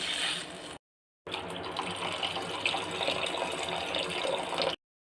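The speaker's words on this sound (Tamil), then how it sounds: "அந்த அரிசிக்கு டபுளாக நம்ம தண்ணி ஊற்றிக்கலாம்" Water runs steadily into a pot of rice for cooking, a continuous splashing gush broken by one short pause, then flowing again until it stops.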